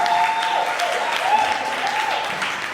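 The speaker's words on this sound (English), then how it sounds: "Can we give her a round of applause?" An audience applauds at a book launch, steady close clapping from a crowd that holds level for a few seconds.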